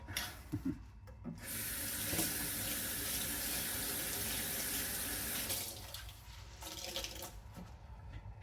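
Tap water pours steadily into a sink while dishes are washed, a loud continuous rushing stream lasting several seconds, with softer splashing and clinks before and after.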